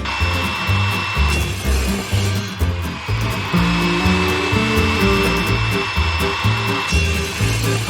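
A loud power tool trims the uneven edges of wooden pieces, a close, continuous droning whine with rhythmic pulsing as the cut works along the wood, uninterrupted by speech.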